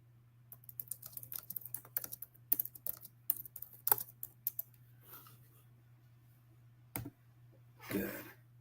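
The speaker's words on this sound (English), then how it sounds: "Just typing something." Fingers tap rapidly on a computer keyboard, a quick run of crisp clicks and key presses that slows, pauses, then gives a few final isolated taps over a low steady hum.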